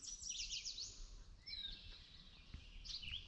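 Birds sing and chirp in the woods of a state park near a pond, rapid high trills and calls repeating over a faint background hush, moderately distant.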